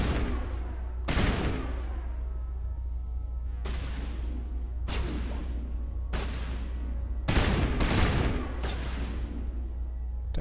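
Sci-fi gunfire from a Mass Effect firefight, with several loud bursts of shots recurring every second or two over a steady low rumble of battle ambience.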